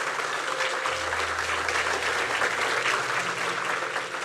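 Church congregation applauding, sustained dense clapping from many hands, loud and even, with a low organ-like hum underneath.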